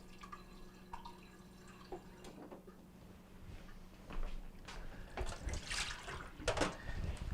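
Water from a Kenmore Whirlpool refrigerator door dispenser runs into a glass, faint at first with a few small clicks, then a louder, uneven splashing trickle close by.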